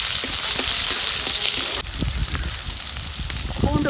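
Shallots dropped into hot oil with asafoetida for a Tamil pirandai (adamant creeper) chutney, giving a steady close sizzle that shifts to a crackling fry partway through, with light stirring clatter.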